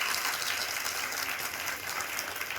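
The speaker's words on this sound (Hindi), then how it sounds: "और जोरदार तालियां अपने लिए बजाएं।" Large crowd of women health workers at a strike gathering applauding themselves, a dense, even roar of clapping, loud and continuous from start to finish.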